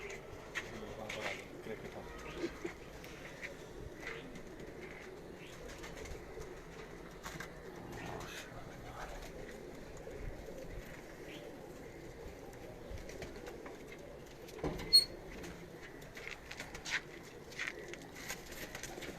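Faint, steady cooing from pigeons in a loft carries on in the background over a soft ambient hum, with occasional sharper knocks and rustles.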